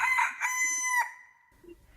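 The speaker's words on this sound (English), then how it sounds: "The cockerel too, which had been awakened by the noise and had become lively, cried down from the beam," A cockerel crows a loud, close cock-a-doodle-doo from a beam, one clear drawn-out call that fades to quiet at the end.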